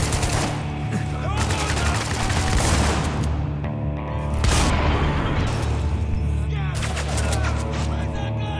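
Rapid bursts of automatic gunfire with heavy booms and explosions from the video game Spec Ops: The Line, loud and continuous throughout, with brief lulls between volleys.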